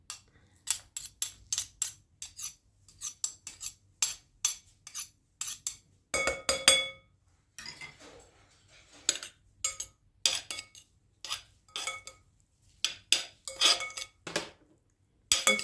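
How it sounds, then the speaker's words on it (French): Metal spoon or utensil clinks repeatedly against a pot while stirring seasoned food with salt and pepper, for stuffed tomatoes with bulgur; sharp, close, irregular taps and scrapes with brief pauses, no talking. "Je vais remuer."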